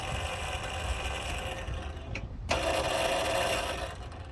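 A 2010 John Deere electric Gator utility vehicle with eight 6-volt batteries switches on, giving a steady mechanical whir and hum with a brief dip and click partway through, then a slightly louder running tone close by.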